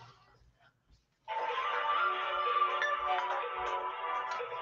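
A phone ringtone sounds for several seconds, a steady electronic melodic tone that starts abruptly after a quiet pause and continues loud until the end.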